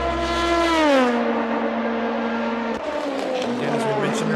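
A race car on the Sebring circuit passes during the Sebring 200, its engine note loud and close with a falling pitch sweep as it goes by, then a steady drone continues while a commentator talks over it.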